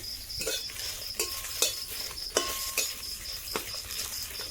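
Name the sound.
dried red chillies frying in pan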